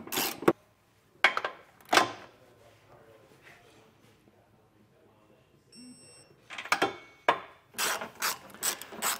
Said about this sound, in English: I'm going to snug these up right now, and then I'll come back with my torque wrench